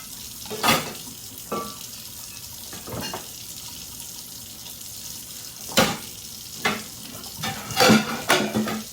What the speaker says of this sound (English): So I'm gonna get my dishes done